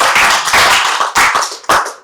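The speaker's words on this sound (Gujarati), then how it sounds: "આપણે સૌએ એમને તાળીઓ પાડીને વધાવી" Audience at a Gujarati literary stage event clapping in a few loud, close bursts, with short gaps between them and no voices.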